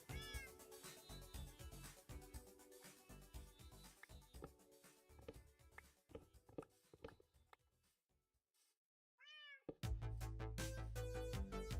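A Minecraft cat meows inside the game during a busy stretch of sound, with a few short rising meows standing out clearly after a near-silent gap, followed by louder noise, no talking.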